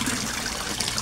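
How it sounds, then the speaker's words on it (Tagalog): Resun aerator pump bubbling water in an indoor koi fish tank, a steady close hiss of churning bubbles with a continuous trickling wash and no pauses. "Ang lakas-lakas ng aerator guys"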